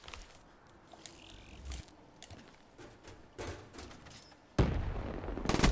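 Gunfire in the video game Call of Duty Black Ops III, with scattered shots and bursts through a multiplayer round, growing louder and denser toward the end.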